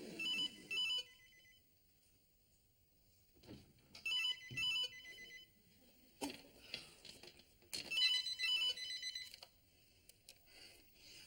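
A telephone bell rings at night in a quiet indoor setting, three separate bursts of ringing spaced a few seconds apart, with softer rustling and faint movement between them.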